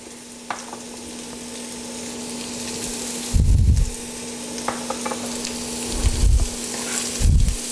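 Vegetables sizzle and fry in a pan after oregano and Italian seasoning are added, a steady crackling hiss joined by a few louder low bursts of stirring and scraping.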